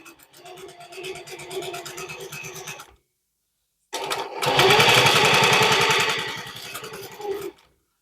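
A sewing machine runs a presser foot over fabric and cord, with a steady close mechanical stitching whir for about three seconds. After a brief pause it starts again louder and faster, then stops.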